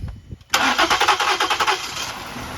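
A car engine cranks and fires up after a VVT solenoid replacement, a loud burst of starter whine and catching combustion settling into a steady, slightly pulsing idle close to the microphone.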